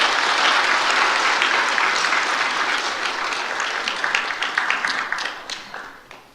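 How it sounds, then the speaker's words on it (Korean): Loud applause from a church congregation during a Korean church service fills the space, gradually thinning out into scattered individual claps toward the end. "박수로 한번 축하하세요."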